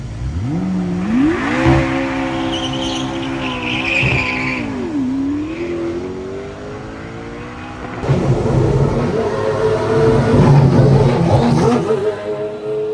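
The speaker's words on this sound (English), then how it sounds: "The extremely good-looking Lanzante P1 GTR." A Lanzante P1 GTR, a road-legal race car, drives on a track with its brakes being warmed up: a loud, close engine rises and falls through shifting revs, then surges harder with rough, growling acceleration near the end.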